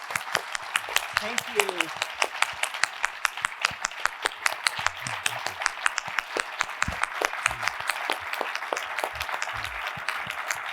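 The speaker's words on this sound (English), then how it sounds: "Can we please give them another round of applause?" A seated audience claps in a dense, steady round of applause after a conversation with an ambassador at a book event. The close, sustained clapping runs throughout, with a brief spoken remark from a voice over it.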